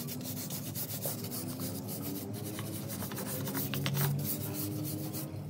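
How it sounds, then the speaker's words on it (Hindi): A brush scrubs dusty outdoor planters in brisk, continuous bristly strokes, a steady close rasping that swells slightly midway, with no talking over it. "आज मैं इनको ब्रश की मदद से अच्छी तरह साफ़ करूँगी"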